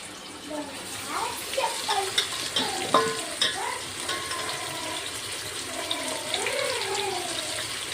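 Chopped onion sizzles in hot oil in a pan for a mutton curry, a steady close frying hiss with occasional stirring clatter, while someone talks over it.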